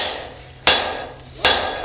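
Two loud, sharp hammer blows, evenly spaced, drive a greased, quenched steel workpiece through a Forstner-drilled hole while making a clipping hammer, each strike ringing bright and decaying into the quiet workshop.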